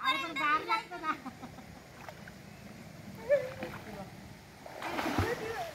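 People swimming in a river in the Konkan countryside splash in the water, with a louder burst of splashing near the end; voices talk and call out over most of it.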